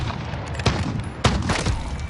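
Two heavy gunshot bursts ring out in a Call of Duty match, about half a second apart and close and loud, over a steady rumbling background.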